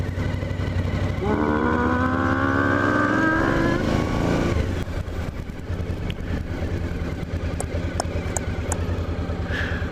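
An off-road motorcycle on a 55 mph road revs up through rising gear pulls, the engine note climbing loudly and steadily before settling into a rougher, steady drone with wind noise, all close to the rider.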